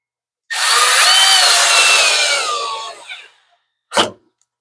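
A power drill drives a screw while an MTD tiller is assembled, a loud whirring run of about three seconds that winds down, followed by a brief short buzz.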